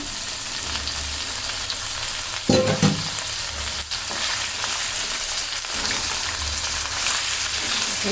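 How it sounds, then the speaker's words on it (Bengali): About a kilo of beef drops into a pan of frying onions for beef tehari, with a sudden burst of sizzling and a clatter as it goes in, then steady hissing and stirring, no talk. "এই যে এখানে মাংস কিন্তু এক কেজির মতন আছে এই মাংসটা দিয়ে দিচ্ছি"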